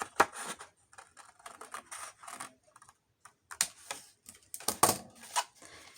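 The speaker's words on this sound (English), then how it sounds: "I'm going to cut right across the center of the whole thing." Scissors cut across paper for a junk journal, a run of crisp, irregular snips and rustles close by, fairly quiet with short gaps between cuts and no talking.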